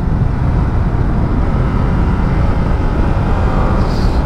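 Ducati Panigale V2 2025 motorcycle being ridden, a steady, loud engine and wind roar filling the whole stretch without pause, close and continuous with no voices.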